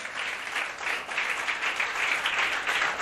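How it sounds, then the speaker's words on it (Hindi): An audience at a Christian worship gathering claps for Jesus Christ, a dense, steady burst of applause that fills the whole stretch at an even, fairly loud level. "यीशु मसीह के लिए जोरदार तालियां बजाओ।"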